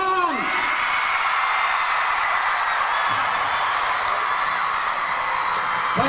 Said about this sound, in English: I want to hear the biggest cheer ever for Shah Rukh Khan!